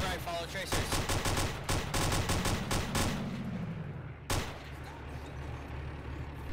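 Gunfire in a military shooter video game: rapid bursts of automatic fire crackle in quick succession, then a single loud shot rings out before a quieter stretch.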